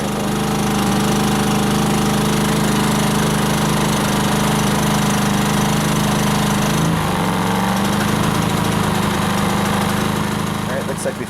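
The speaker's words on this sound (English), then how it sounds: "if I can get the generator to ramp up" A Briggs and Stratton P2200 portable generator running under a heater load, its engine a loud, steady, close drone that shifts pitch partway through as it ramps.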